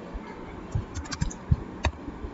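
Computer keyboard keys typed at close range, a handful of soft irregular taps spread over a couple of seconds against a faint steady background.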